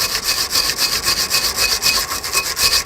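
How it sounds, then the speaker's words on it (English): A wire brush scrubs the brake caliper carrier of an Audi TT in quick rhythmic strokes, a loud, close, harsh scratching with no voices. "now what we're going to do is just clear with a wire brush the caliper carrier"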